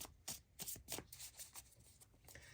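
Tarot cards from a Light Seers deck riffled and shuffled in quick bursts of crisp papery flutters, close and fairly quiet, with no talking.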